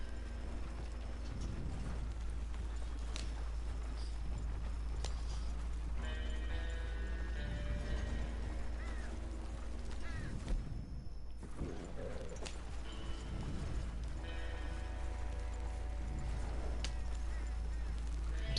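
A horse's hooves clip-clop in a steady rhythm in Red Dead Redemption II, with faint creaking tack, over a constant low hum and game background sounds, with occasional talk.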